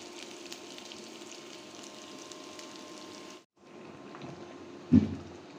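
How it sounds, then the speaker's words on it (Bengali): Spices temper in a little hot oil for a traditional village Bengali dish, giving a soft, steady sizzle that breaks off briefly and then returns, with a sudden louder clatter near the end. "বাগার ভাজা হয়ে গিয়েছে"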